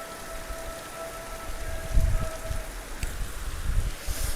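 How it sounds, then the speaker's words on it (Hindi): Heavy rain pours steadily outdoors at a home, a dense, even hiss with a few louder spatters and low thuds, no voices over it. "मौसम देखो ज़बरदस्त अच्छा हो रखा है और बारिश इतनी तेज़ हो रही है, देखो"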